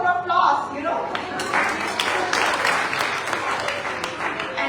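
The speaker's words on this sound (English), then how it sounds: "give them a round of applause" Guests at a Muslim women's iftar dinner at Gracie Mansion applaud, a moderate round of clapping from a crowd in a room, heard under and alongside a speaker talking.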